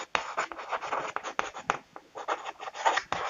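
Writing on a board during a maths lesson: close, scratchy strokes come in quick irregular bursts with short pauses between them, heard alone.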